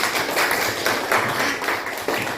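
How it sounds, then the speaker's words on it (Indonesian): A classroom claps for a student, the many hands making a steady, fairly loud patter with slight swells that lasts the whole short stretch. "tepuk tangan buat Rahel"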